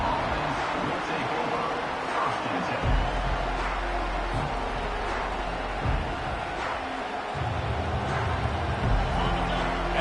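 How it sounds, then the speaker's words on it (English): Steady crowd roar filling a stadium in the College Football 25 video game during a Washington versus Ohio State matchup, a dense continuous wash of noise with occasional low thumps and a commentator talking over it. "listen to the roar of this crowd"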